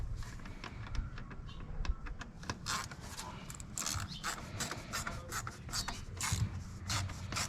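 Ratchet wrench with an 8mm socket tightening the air filter clamp on a 2014 Mazda 3 engine, a quick run of close, dry clicking strokes in an irregular rhythm with a little faint rubbing, no talk.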